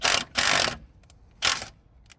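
Socket ratchet working on the wheel bolts of a Ford Fiesta ST180 Mk7 during a wheel spacer fit: three short bursts of rapid mechanical clicking, close and loud, separated by brief pauses.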